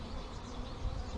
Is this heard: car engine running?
no